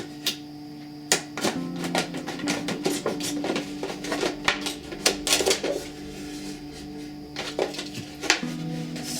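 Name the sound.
cutting a plastic jug for winter sowing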